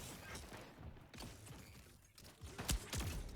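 A heavy pistol charging up in the video game Splitgate 2, a series of short mechanical clicks and creaks building to sharp bursts near the end, no talking.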